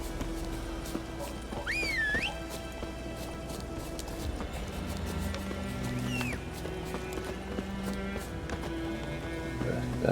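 Horse hooves clip-clop steadily in The Witcher 3: Wild Hunt, set in woods, under a continuous game ambience with occasional whistle-like tones and a few quiet voices.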